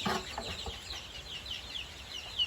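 Domestic chickens in a backyard flock cluck and rustle close by, with a brief wing flutter at the start and a faint steady hum beneath.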